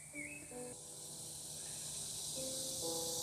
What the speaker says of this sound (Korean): 옆에 매미 소리가 너무 크게 들리는데